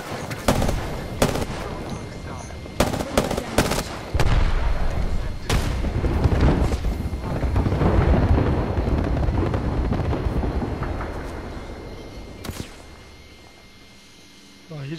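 Artillery strike in the Apex Legends video game: a heavy barrage of loud booming blasts and cracking impacts, rapid at first, then a sustained rumbling roar that slowly fades, with voices talking over it.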